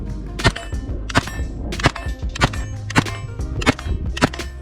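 Gunshots from a PSA AKV 9mm fired at a shooting range, about seven sharp loud reports spaced roughly evenly, each followed by a short ringing echo, with no speech.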